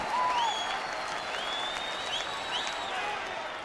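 Baseball crowd at a Lansing ballpark applauding and cheering steadily in a broad wash, urging a pitcher toward another strikeout, with high whistles cutting through.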